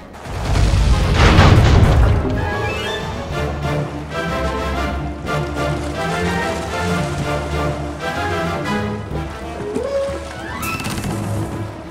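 Ship cannons fire in the Sly 3 video game, with a loud heavy boom up front followed by rumbling impacts and a busy game soundscape of music and effects.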